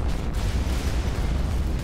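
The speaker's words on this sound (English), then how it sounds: "More missiles." Dense, continuous rumbling blasts fill the scene as naval missiles fire and explode in the Modern Warships video game, a loud wall of layered booms and crackling bursts with no pauses.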